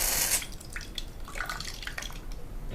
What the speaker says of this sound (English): So let's simulate that by putting some water on it